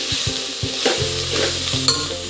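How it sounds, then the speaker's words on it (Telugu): Vegetables and amaranth greens fry in oil and ghee for a vegetable biryani, with a steady close sizzle punctuated by rhythmic scraping and stirring of a spoon in the pan. "మనం ఆయిల్లో మంచిగా ఫ్రై చేసుకోవాలి"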